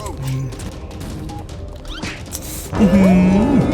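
A rapid burst of gunfire rings out in the video game ROACH during a boss fight, loud and close amid game effects and other in-game sounds.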